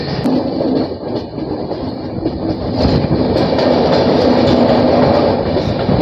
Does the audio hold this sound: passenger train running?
yes